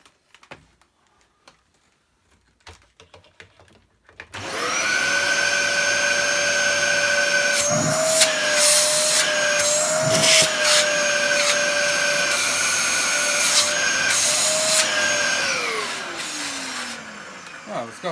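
A Dyson DC07 upright vacuum cleaner, freshly fitted with a new filter, switches on after a few seconds of quiet and runs with a loud, steady whine and rushing airflow for about twelve seconds before spinning down.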